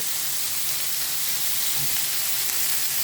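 Pork searing in a hot pan, a dense, steady, hissing sizzle that stays loud and even throughout with no talk.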